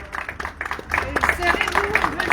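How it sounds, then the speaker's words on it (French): Scattered clapping rises from spectators at a cycling race podium ceremony outdoors, moderately loud and uneven, with people talking over it. "encore des applaudissements pour saluer le podium"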